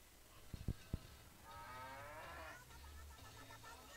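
A cow mooing in the Rabbids Go Home video game, a drawn-out nasal low call over faint background game sound, preceded by a few soft thumps, moderately close.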